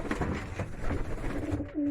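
Pigeons, young racing birds, cooing in soft low throaty murmurs, a couple of overlapping calls close by with no speech.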